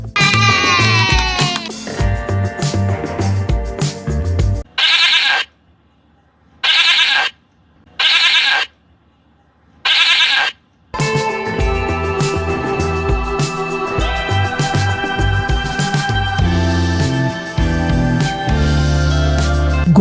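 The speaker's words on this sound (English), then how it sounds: "Goat." A goat bleats four times in short, loud bursts, separated by brief silences, with background music before and after the calls.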